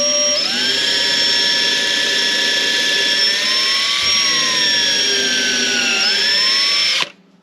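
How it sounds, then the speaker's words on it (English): Power drill boring a pilot hole into the wood of an RV kitchen drawer, one loud steady whine running about seven seconds with slight pitch dips under load, then stopping abruptly. "making sure that we drill our pilot hole"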